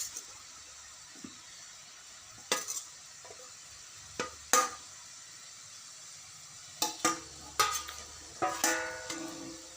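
Rice flour seedai roasting over low heat in a pan: a soft, faint sizzle beneath a series of scattered sharp clinks and scrapes of a utensil against the pan, coming in small clusters.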